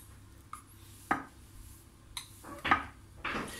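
A tablespoon scrapes and taps against a dish while spreading a tuna gratin mixture, with a few distinct clinks and smears spaced out over a quiet background.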